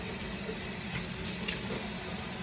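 Shrimp rinsed under a running kitchen tap, a steady close hiss of flowing water with faint splashes against the shellfish throughout.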